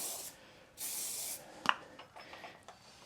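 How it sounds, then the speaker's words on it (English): A spray bottle mists lathe ways after turning wet wood: two long airy hisses a few feet away, followed by a sharp knock and soft sliding, rubbing sounds of parts pushed back and forth. "I tend to spray my lathe ways down and to slide things back and forth"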